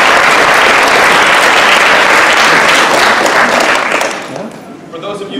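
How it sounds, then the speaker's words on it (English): A large audience claps steadily in a round of applause at a school spring sports awards ceremony, loud and sustained, then thinning out near the end. "Let us give a round of applause for everyone that has made this past season a success."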